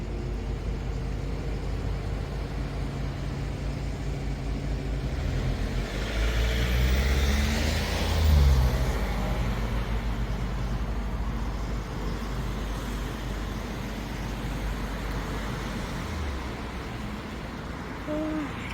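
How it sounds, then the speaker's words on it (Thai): Many cars pass along a busy road in a steady, dense rumble, with one nearer vehicle swelling louder briefly midway before the flow settles back to a constant drone. "แต่รถทำไมมันเยอะจังแล้วเราต้องรอให้เขาไปก่อน"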